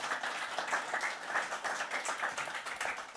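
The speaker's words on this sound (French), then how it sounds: "Merci Daniel, on peut l'applaudir" Audience applause at a business breakfast event, a steady wash of many hands clapping at moderate level with no voices over it.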